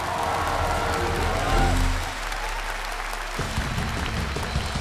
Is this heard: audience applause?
yes